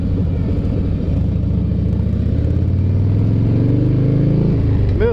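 Harley-Davidson motorcycle engine on a ride, a loud, close, steady low rumble that rises gradually in pitch as the bike accelerates, with wind noise over it.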